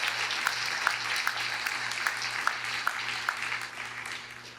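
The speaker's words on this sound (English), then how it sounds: "Let's give a big round of applause for all of them." Audience applause at a police-community relations awards ceremony, a steady patter of many hands with a few sharper claps standing out, slowly fading away over an underlying low electrical hum.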